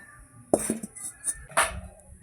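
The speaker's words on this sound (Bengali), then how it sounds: "কড়াই বসিয়ে দেবো" Two sharp metallic clanks a second apart as a wok is set down on a lit stove, with faint background hum between.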